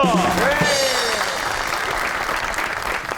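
Audience applause greeting a guest on a comedy talk show, a dense burst of clapping that rises under a musical sting and then carries on steadily, slowly fading toward the end.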